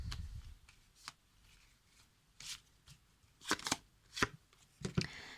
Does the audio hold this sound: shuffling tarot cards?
yes